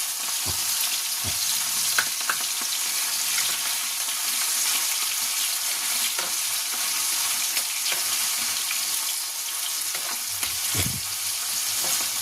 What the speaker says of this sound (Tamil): அப்படியே ரெண்டு ரெண்டாக போட்டு அப்படியே கொஞ்சம் பொரிச்சு வைக்கணும்.